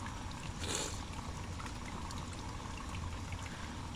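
A steady, dense hiss of falling rain fills the background, constant and moderately loud, with a brief brighter splash near the start.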